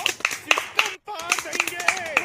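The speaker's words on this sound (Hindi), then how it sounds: "सभी बच्चे इसके लिए ताली मारो" A group of children clap in loose rhythm after a dance at an Independence Day event, sharp individual claps mixed with voices, broken by a short gap partway through.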